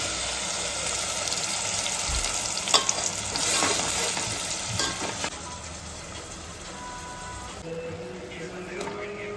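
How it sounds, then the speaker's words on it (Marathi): Ground paste of onion, tomato, garlic, coriander and ginger is added to a hot pan for chicken curry, giving a loud close sizzle with stirring scrapes that eases off after a few seconds, no talk over it. "हे वाटण केलेलं आहे एक कांदा टोमॅटो लसूण कोथिंबीर अद्रक आता हे टाकून घेतो"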